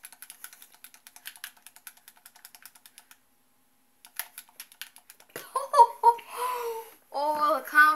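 Rapid keyboard key clicks from someone playing GTA Online, a light, quick run of taps lasting about three seconds, then a brief pause and a few more taps before children start talking and laughing over them.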